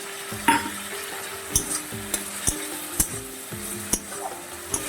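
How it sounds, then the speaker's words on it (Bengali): Spice paste with chopped tomato stirred and fried in a pan while cooking a dish of hilsa fish head with ol stems, with a steady soft sizzle and repeated sharp scrapes and taps of the spoon against the pan, close and clear. "একটু মশলাটা নাড়িয়ে চাড়িয়ে কষিয়ে নিই"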